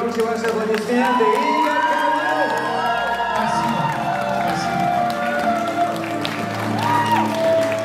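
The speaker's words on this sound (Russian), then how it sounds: "аплодисменты." A wedding audience in a banquet hall applauds and cheers, a dense continuous wash of clapping with whoops and shouts throughout, loud and close.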